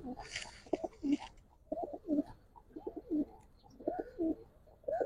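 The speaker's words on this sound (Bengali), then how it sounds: "এগুলো অনেক পুরান জাতের কবুতর ভাই" Old-breed Giribaz and Khaki pigeons coo close by in a series of soft, rounded, repeated calls, with a brief burst of rustling noise near the start.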